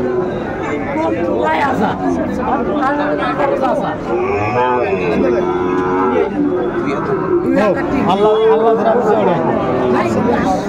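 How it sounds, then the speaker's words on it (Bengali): Sahiwal bull calves moo repeatedly at a busy cattle market, several drawn-out bellows rising over a constant hubbub of crowd chatter and nearby talking voices. "শাহিওয়ালের ষাঁড় বাচ্চা আমরা দেখছিলাম"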